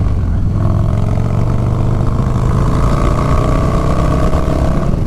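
Harley-Davidson Low Rider S motorcycle, 116 horsepower, engine droning loud and close while riding uphill through corners, a steady low rumble with a rising pitch as it pulls, no talk.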